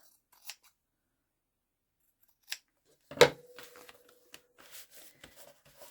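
Scissors snip paper while junk-journal pages are trimmed for decoupage, a few quiet isolated cuts followed by one crisper, louder snip and faint rustling handling.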